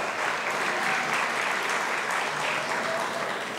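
An audience at a Richard Nixon Foundation event honoring Rep. Ed Royce claps and cheers in a dense, continuous wash of applause that holds at an even loudness from start to finish.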